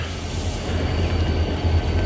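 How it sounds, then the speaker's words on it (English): Norfolk Southern trains roll past near the Allentown terminal, a loud, continuous rail rumble with a steady low drone and no speech. "you'll see the Norfolk Southern trains coming through here."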